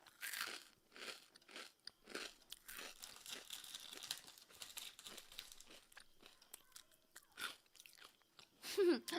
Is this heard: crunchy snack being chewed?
yes